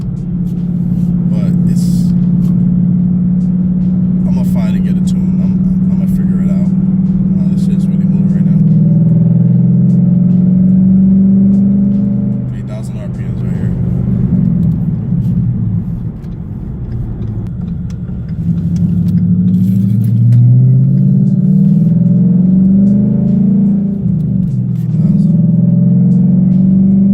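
A Ford Mustang GT fitted with a FlowMaster Outlaw catback and Scavenger X-pipe exhaust rumbles loud and close, its deep burble rising and falling through several revs while someone talks over it.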